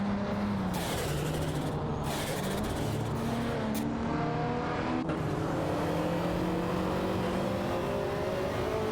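Race cars in a video game race roar steadily, with engine tones rising and falling as cars accelerate and shift, layered whines from several vehicles sustained throughout at close range.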